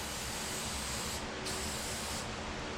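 An aerosol can of air filter oil hisses steadily onto a CF Moto Zforce air filter, a close, loud continuous spray with two brief pauses in the high hiss.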